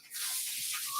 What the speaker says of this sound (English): This here, we will spray it down.